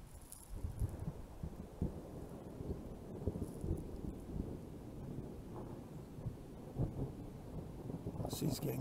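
Thunder rolls and rumbles through a thunderstorm, a deep, continuous low roar mixed with steady rain and wind buffeting the microphone, with a brief brighter swell near the end.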